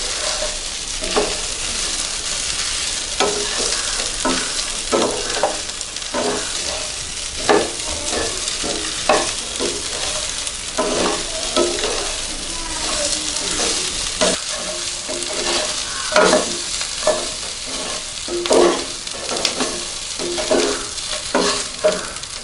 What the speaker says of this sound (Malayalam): തേങ്ങ നല്ല ബ്രൗൺ നിറമാവുന്നത് വരെ ഇളക്കുക.